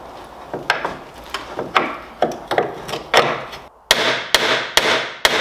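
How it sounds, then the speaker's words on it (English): Hammer blows on a bent metal bracket of a crashed Mini Cooper: a dozen sharp, loud impacts at an uneven pace, getting harder and ringing toward the end, close by with no talk. "I can't imagine my neighbours being very happy hearing all this hammering."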